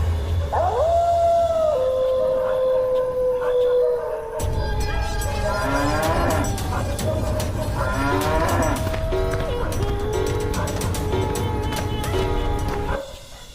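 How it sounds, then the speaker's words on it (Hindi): An old cow moos in pain, a long, drawn-out, loud call at the start that fades into a dense, layered tonal backdrop lasting to the end. "घर पहुंचकर गौरी दर्द में फिर से रंभाते हुए भगवान को याद करती है।"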